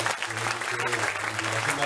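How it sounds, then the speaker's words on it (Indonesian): Applause for the women at a religious gathering with Cak Nun and Kyai Kanjeng fills the hall: steady, dense clapping from a large crowd, with low hum and indistinct background sounds beneath it. "Tepuk tangan untuk ibu-ibu dari"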